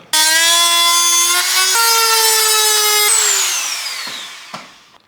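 A small rotary tool trims the plastic body of a micro Jeep rock crawler, giving a loud, steady high-pitched whine that steps up and down in pitch as it cuts, then winds down near the end.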